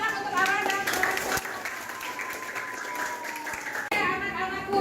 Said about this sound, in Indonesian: Berikan tepuk tangan untuk Ara dan Rafa.